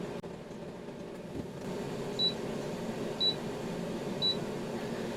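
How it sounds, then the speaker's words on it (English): An air fryer signaling its finished cycle: three short, high electronic beeps evenly spaced about a second apart, over a soft steady fan hum. "So when it's done, it's going to beep 10 times"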